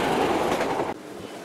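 A passenger train rolls along a railway line near Lemah Abang station, a loud, close, broadband rumble and rattle that cuts off abruptly after about a second.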